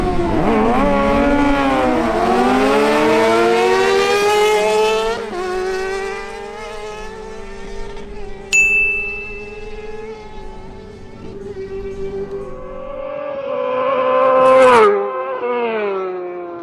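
Kawasaki Ninja ZX6R and Yamaha R6 sport bikes drag racing, engines screaming up through the revs with rising whines and quick gear-shift drops, loud and close, then fading briefly before another rev near the end.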